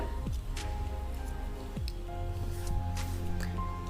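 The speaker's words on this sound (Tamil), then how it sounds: "ஸோ அதையும் நான் பிளெண்ட் பண்ணி விட்டுக்கிறேன் ஸ்பஞ்ச் வச்சு." A makeup sponge blends concealer over foundation with soft, repeated squishy dabs, fairly close and quiet, over a steady background of sustained tones.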